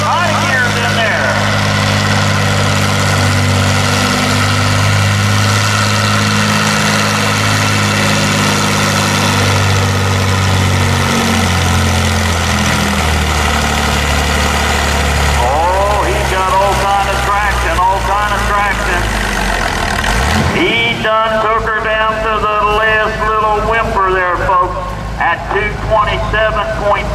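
Farm stock tractor engine at a tractor pull, International Harvester, Ford, Deere or Oliver in the 8000 lb class, a loud low drone that bogs down, then revs high with shifting gear whine near the end.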